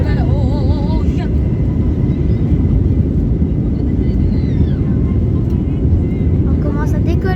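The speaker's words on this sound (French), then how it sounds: "c'est parti, c'est le décollage en plus" TAP Air Portugal airliner on its takeoff roll, heard from inside the cabin as a loud, steady, broadband engine roar that fills every moment, with voices talking excitedly over it.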